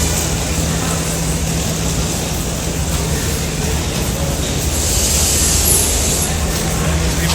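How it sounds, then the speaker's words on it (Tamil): A train pulls into the station at Ella, Sri Lanka, its steady loud rumble and rolling noise filling the air without a break. "இந்த எல்லா ட்ரெயின் தான் வந்துக்கிட்டு இருக்குது"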